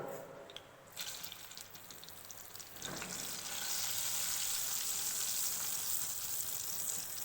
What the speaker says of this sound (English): After pouring the ghee, when ghee melts properly, we are adding hing powder.